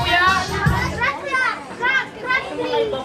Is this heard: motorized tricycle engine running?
no